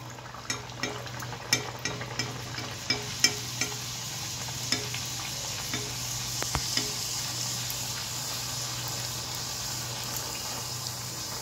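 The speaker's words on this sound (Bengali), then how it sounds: "মিডিয়াম হিটে রেখে এটাকে আমি ফ্রাই করে নেব।" Club kachuri, a thick rolled dough round, frying in hot oil over medium heat, a continuous close sizzle with light spattering pops and a few clinks from the pan, no talking.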